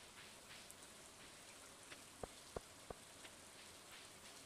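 Rain falling in the Stardew Valley video game, a soft steady hiss with a few sharp drop-like ticks, quiet throughout and without any voices.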